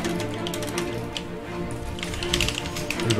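Rapid clacking of a mechanical keyboard with red switches under fast gaming input, a steady dense patter of keystrokes close to the mic, alone without talk, growing busier toward the end.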